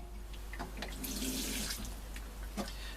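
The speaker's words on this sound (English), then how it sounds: "I'm going to drain this water quickly, and I'm going to add more water." Water pours steadily from a tap into a pot, a splashy rushing flow that swells in the middle and trails off with a few drips and clinks.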